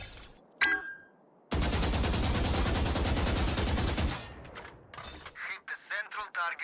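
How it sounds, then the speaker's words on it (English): A full magazine is hip-fired at a target in VALORANT as one loud, continuous automatic burst of about two and a half seconds. A short sound comes before it, and a voice speaks after the firing stops. "Hip fire a full magazine into the target"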